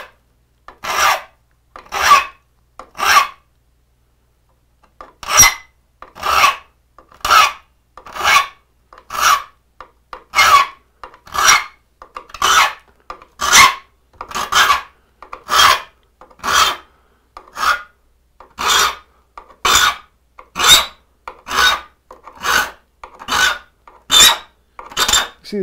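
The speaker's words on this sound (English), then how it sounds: "So this is a live speed for a touch-up sharpening." A hand file rasps across saw teeth during a touch-up sharpening, giving about two dozen crisp, evenly paced strokes up close, with a short pause early on.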